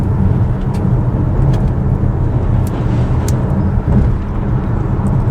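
A 2022 Volkswagen Tiguan SEL 4Motion accelerates on the road trying to pass a large truck, a loud, steady low engine drone with road and cabin rumble sustained throughout, no clear rev climb.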